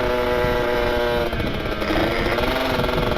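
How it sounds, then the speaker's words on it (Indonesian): Loud, raspy exhaust of a Kawasaki Ninja two-stroke motorcycle riding in busy Sunday traffic, a continuous buzzing drone with a slight pitch change midway, close and dominant with no talking. "Buset, kenceng banget suara knalpot."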